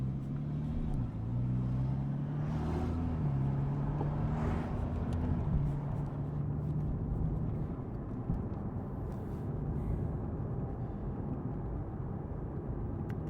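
Porsche 911 Carrera S (991.1, 2013) with its 3.8 litre flat-six engine pulling under acceleration on a road: a steady low engine drone with a few pitch steps as gears change, heard from inside the car over constant road and wind noise.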